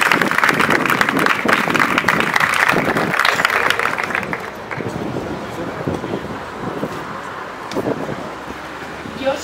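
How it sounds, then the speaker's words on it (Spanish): Dense applause from a crowd, loud at first and then thinning slightly as it continues, with a few voices mixed in. "un aplauso para esta poeta."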